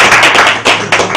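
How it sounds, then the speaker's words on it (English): Audience applause at a dinner party award ceremony honoring ambassador Justina Mutali, a dense, close wash of clapping hands with no voices over it. "Please give her a round of applause."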